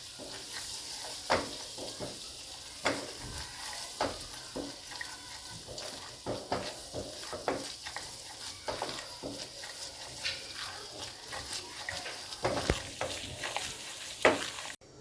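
Flour dry-roasting in a pan for a crispy creamy burger recipe, with a steady soft hiss beneath repeated scraping strokes of a spoon stirring it, close and moderately loud throughout.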